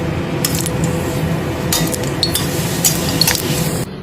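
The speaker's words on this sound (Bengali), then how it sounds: "কড়াতে একটু তেল দিয়ে 3টে শুকনো লঙ্কাকে ভেজে নেব।" Three dried chillies crackle and hiss in hot oil in a wok, a steady close sizzle punctuated by sharp metallic scrapes and clinks of a utensil against the pan.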